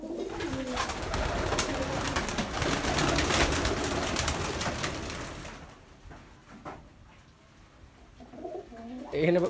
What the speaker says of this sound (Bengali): পাক ধরে গেছে কবুতর, উড়বে কবুতরটা উড়ে যাবো।